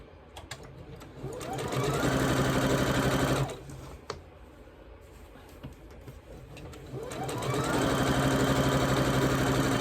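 A sewing machine stitches quilt sashing pieces together for a Spring Ivy quilt. It runs close and loud in two long bursts with a quieter pause between them, a steady mechanical whir with some light clicks and no talking.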